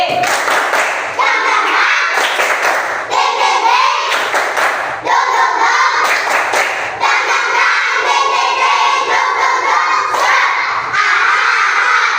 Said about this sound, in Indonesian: Nah anak-anak kelas 3B, kita tepuk semangat dulu yuk. Tepuk semangat 3B.